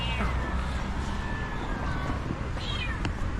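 A cat at a hotel meows a few times, faint high cries over a steady background hum, with a short sharper meow near the end.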